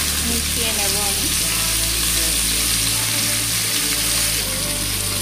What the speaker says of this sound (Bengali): এবার সব কিছু ভালো করে মিশিয়ে নেব আমি।